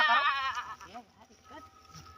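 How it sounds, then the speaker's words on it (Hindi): A sturdy, healthy male goat gives a wavering, quavering bleat at the start, close and fairly loud, then fainter bleating sounds under people talking nearby. "देख लो यार बहुत तंदुरुस्त बकरा है"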